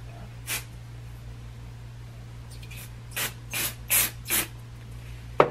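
Several short hissing sprays of hair product from a bottle, spaced apart at first and then coming in a quick cluster of four bursts near the end, close and fairly loud over a low background hum.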